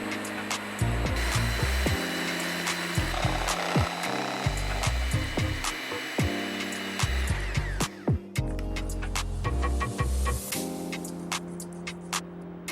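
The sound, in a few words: electric mixer smoothing cheesecake filling clumps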